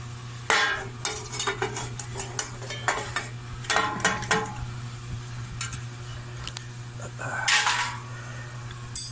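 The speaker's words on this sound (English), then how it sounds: "I'm going to stir this around until it all gets coated good." A utensil stirs tobacco into a boiled-down mint mixture in a pot, with repeated scraping and clinking strokes against the pot over a faint steady hum and soft sizzle.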